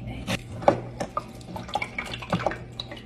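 Lemon juice poured through a strainer to catch the seeds while making lemon blueberry custard bars, giving soft trickling and dripping liquid sounds with a few light clinks of a utensil against a bowl, close and fairly quiet.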